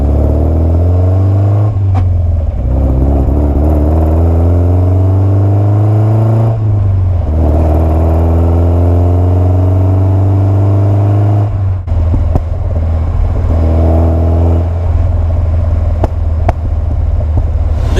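A 55-year-old Alfa Romeo Giulia SS 1600 accelerates hard and loud from inside the car, its engine rising through several gears with rising whines, brief dips at each shift, a deep rumble underneath.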